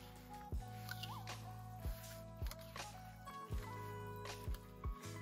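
A broccoli cheddar salad stirred in a bowl: soft, wet squelches and clicks repeat about once a second, close and quiet over a faint steady hum.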